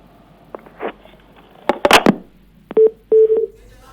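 Telephone call to an official about oxygen shortage at a Bahraich hospital, ending as the line is cut: a few scattered clicks and a loud burst, then several short steady tones in quick succession, each clear and close.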